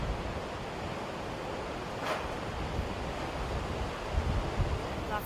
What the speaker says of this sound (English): Las olas muy fuertes.